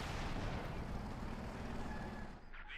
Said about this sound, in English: taking fire there from German mortar fire